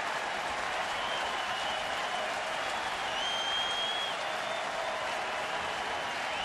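A baseball crowd roars and applauds steadily for pitcher Cliff Lee with two outs and two strikes in the top of the fifth inning, Milwaukee at Philadelphia, a dense sustained cheer filling the stadium with a few whistles rising above it.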